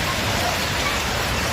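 Heavy rain and hail pound down during a hailstorm in Paris, a dense, constant hiss of falling water and ice filling the scene evenly from start to finish without voices.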